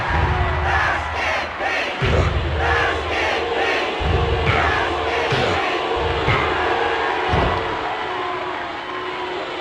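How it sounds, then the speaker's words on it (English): Loud, continuous crowd cheering and roaring fills a WWF War Zone wrestling match on PS1, with periodic thuds and slams punctuating the din throughout. "The crowd goes crazy."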